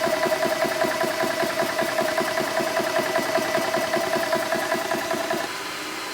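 A pump runs steadily, filling a unit up to a set PSI, with a rhythmic pulsing motor drone that drops to a quieter tone near the end as it shuts off.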